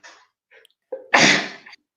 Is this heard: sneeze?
yes